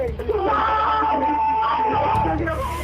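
Children screaming on a 911 call recording, high distressed wails and cries sustained across the clip, loud and close amid muffled voices.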